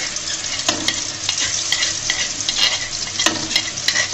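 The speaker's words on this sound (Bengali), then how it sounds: "এই পর্যায়ে যেগুলো বাটনার মধ্যে আমি পিষে রেখেছি সেই মশলাগুলো দিয়ে দিব।" Ground spice paste fries in hot soybean oil for a chicken and new potato dish, with a loud, dense, crackling sizzle and regular spatula strokes scraping the pan up close.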